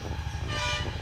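A Hero HF Deluxe motorcycle horn, sounded from its handlebar switch, gives a steady, buzzing tone in the second half of the clip over a constant low background hum. No one speaks.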